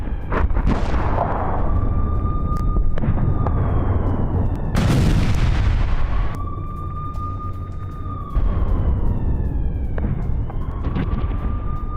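Iranian missile strikes on Tel Aviv, Israel: heavy booming blasts and rumbling explosions roll over a constant roar, with a wailing air-raid siren rising and falling in the background throughout.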